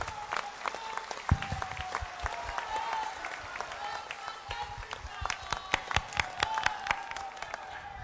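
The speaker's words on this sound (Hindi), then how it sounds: "खड़े होकर एक बार जोरदार ताली आप सब लोग महामहिम जी के लिए यहां पे बजाएं" A large audience at a political gathering gives a standing ovation, sustained applause with sharp individual claps standing out. A voice speaks over the clapping.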